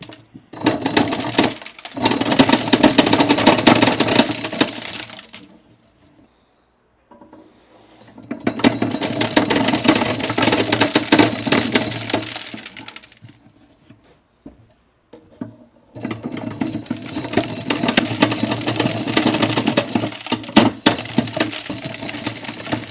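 A hand-cranked corn sheller strips kernels from ears of corn in three bursts of dense, woody crackling and rattling, each several seconds long and separated by short pauses, loud and close with no talk.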